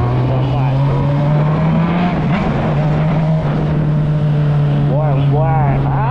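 A Honda Hornet motorcycle engine runs loud and close in a steady low drone, rising briefly in pitch near the end, while people talk over it.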